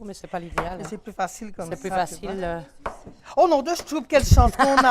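Knife strokes chop vegetables for a ginger soup on a board, partly masked by lively French conversation from several nearby speakers.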